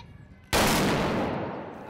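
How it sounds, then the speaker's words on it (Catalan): A trabuc blunderbuss fired at a gathering of trabucaires in Terrassa, Catalonia: one sudden loud blast after a quiet moment, followed by a long roaring boom of overlapping shots that slowly fades. "Aquest ha estat el tret de sortida de la trobada de la dona trabucaire de Catalunya"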